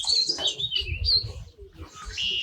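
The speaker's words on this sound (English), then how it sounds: "White-crowned sparrow." White-crowned sparrow calling at Magee Marsh on Lake Erie in northwestern Ohio, a series of bright, high chirping notes close by with a pause in the middle, over a low rumble of wind or background noise.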